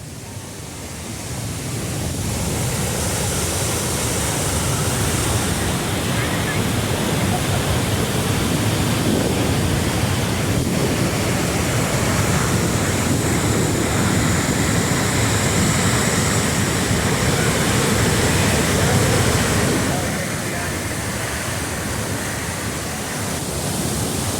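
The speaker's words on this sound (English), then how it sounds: "The sheer power of the water plunging over the cliffs, mist rising hundreds of feet in the air" A steady, powerful roar of Niagara Falls plunging over the cliffs, broadband and continuous, swelling slightly and then easing near the end.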